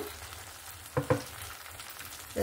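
Semolina and potato batter fries in a pan with very little oil, a soft steady sizzle close by, broken by two brief clinks of a spoon against the pan.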